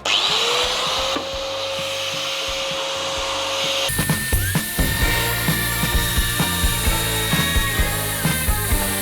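A Makita angle grinder starts with a rising whine, then roars into a loud, rough grinding hum with rapid rattling pulses, running steadily up close.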